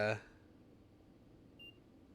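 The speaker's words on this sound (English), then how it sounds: "What just beeped at me?" A short electronic beep sounds once in a train-driving video game, a single thin tone after a brief burst of talk, faint and quiet within a near-silent stretch.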